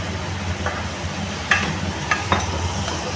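Vegetables cooked with vinegar and soy sauce sizzle in a pan for paneer fried rice, a constant close crackle broken by a few sharp scraping clicks from stirring, with no one talking.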